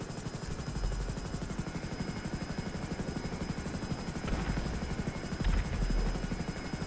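A helicopter in GTA Online whirs with a steady, rapid rotor chop, loud and continuous throughout, with a couple of brief heavier thumps mixed in.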